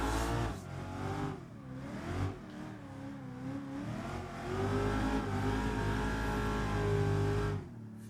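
A car revs hard through an accelerating drift entry, its engine note rising and falling in sweeping pitch swings and then holding a loud sustained climb before easing off, close and without talk.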